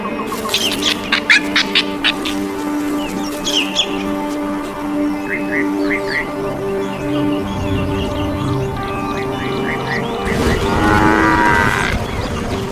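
Low calls and moos from a wild buffalo herd, with birds chirping over them, and a louder rustling commotion near the end.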